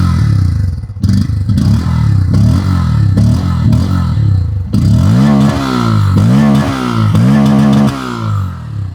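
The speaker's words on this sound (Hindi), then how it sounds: "यहाँ पर अंडर द बेली एग्जॉस्ट सुना देता हूं मैं फटाफट" An under-belly motorcycle exhaust, from an Apache 160 4V or Pulsar N160, revs loudly and up close with repeated sharp throttle blips and then longer rising and falling revs over a rumbling idle.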